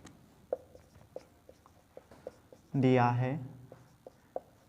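Pen or marker writing an answer by hand during a trigonometry lesson: soft, irregular scratchy strokes with small taps, close and fairly quiet, broken by a short burst of a voice partway through.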